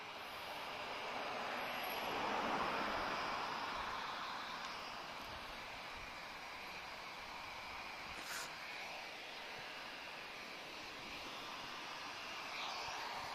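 A TAP Air Portugal jet at Lisbon Airport roars steadily from a distance, a broad engine rumble that swells a little early on and then holds level throughout.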